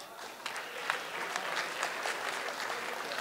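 Audience applause at a Hindi-Urdu mushaira poetry recital for the ghazal poet Rajveer Raj, a steady patter of many hands clapping at moderate distance, fairly even throughout with no voices rising above it.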